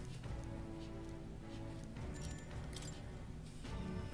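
Steady rain falls in the fantasy role-playing game Metaphor: ReFantazio, a constant patter layered with faint game music, uninterrupted and without voices.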